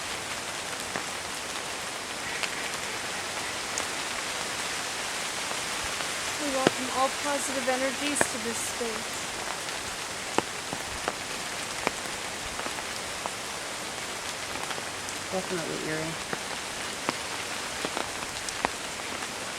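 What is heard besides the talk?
heavy rain falling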